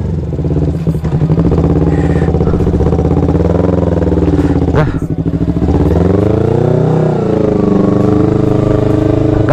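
A motorcycle engine revs loud and close, with strong harmonic tones that rise and fall through several throttle blips, and brief clatter around the middle.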